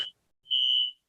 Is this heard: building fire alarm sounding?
yes